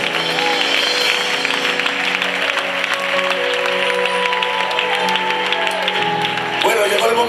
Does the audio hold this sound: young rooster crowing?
no